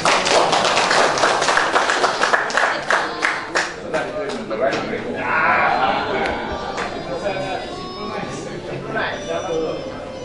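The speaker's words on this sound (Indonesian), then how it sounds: "Tepuk tangan untuk profesor ini." An audience at a gathering of Minangkabau scholars in Agam, Sumatra, applauds a professor: a burst of close, rapid hand claps for roughly four seconds that thins out into scattered voices and chatter.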